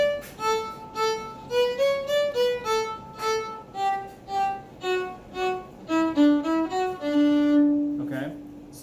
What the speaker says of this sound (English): most of the song is going to be staccato, which is short notes